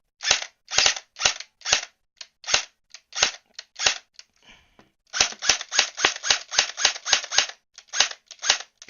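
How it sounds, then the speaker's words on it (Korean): S&T UMP45 Sportsline airsoft AEG firing loud, close, sharp shots: spaced single shots first, then after a short pause a fast, steady string of rapid shots, with no talking. "다시 여기서 쏘고 다시 단발"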